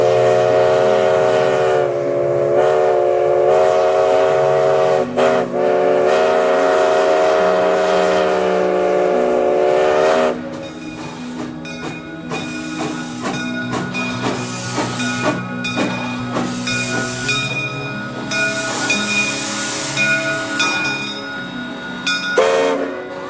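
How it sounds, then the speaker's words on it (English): The whistle of steam locomotive 4070 blows a long, loud chord for about ten seconds, followed by chuffing and hissing steam with shorter whistle bursts. "hear the sound of 4070's whistle being played on an actual locomotive again"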